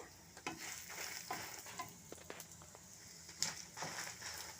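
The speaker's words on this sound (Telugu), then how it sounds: "దినుసులన్నింటినీ బాగా వేయించుకున్నాక" Whole spices fry in a pan for a dish served with dal rasam, a soft steady sizzle broken by scraping stirs and a few sharp clinks of the utensil against the pan.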